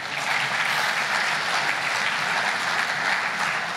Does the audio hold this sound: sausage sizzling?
no